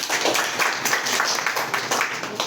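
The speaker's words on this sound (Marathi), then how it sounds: "तर पेटेवार टाळ्या वाजवा, टाळ्या कंटिन्यू चालू करूया" Continuous, close, fairly loud applause from an audience at a school prize distribution for gold medal winners at Parishram Classes, Ghatanji, with dense, uneven claps throughout.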